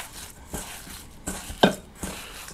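Hands mix and knead seasoned minced meat with ketchup for burger patties, making soft, irregular squelching and slapping noises with one sharper wet smack midway.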